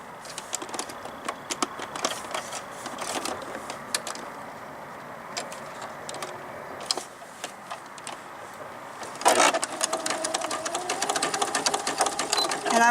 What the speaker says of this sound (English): this you have to do on your sewing machine